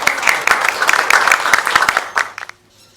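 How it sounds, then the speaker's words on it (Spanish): A short burst of loud applause from an audience at a book club event greets a doctor, sharp claps thinning and then stopping abruptly, leaving a quiet room. "Un aplauso para el doctor."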